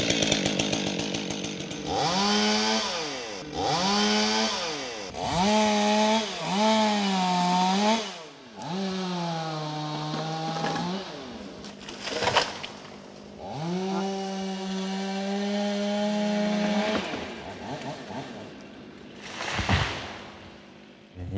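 A chainsaw revs up and down in repeated bursts, close and loud, its pitch rising and falling as it bites through oak tree branches, with brief pauses between cuts.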